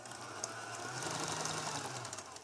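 An electric mixer beats sugar and butter in a bowl for lemon knot dough, giving a steady, close whirring drone that holds even throughout without talk.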